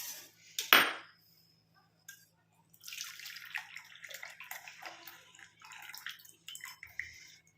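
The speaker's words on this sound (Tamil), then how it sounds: "இப்போ இதை வந்து நம்ம ஃபில்டர் பண்ணி எடுத்துக்கலாம்" A hibiscus flower decoction is strained through a filter: a sharp clink of vessels, a pause, then trickling and pouring liquid with light kitchenware knocks, close and without voices.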